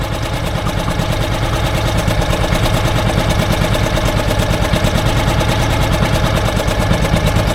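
A 4hp Mercury outboard boat motor idles close and loud, with a fast, steady put-put pulse that holds evenly throughout.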